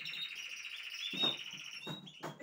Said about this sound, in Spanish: Los pájaros tienen que cantar ya